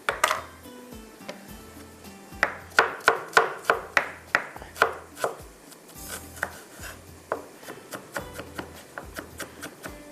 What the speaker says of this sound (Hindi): बारीक बारीक हम इसको कटिंग कर लेते हैं